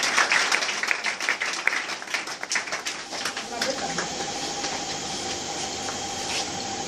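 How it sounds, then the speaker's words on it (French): A church congregation applauds and cheers for Jesus, with dense clapping and voices that swell loudly at first and then thin into a softer crowd murmur. "Est-ce qu'on peut acclamer Jésus?"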